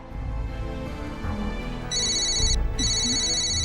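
Telephone ringing, a bright electronic ring that starts about halfway through in two bursts with a short gap between them, heard over a low background bed, with no talk.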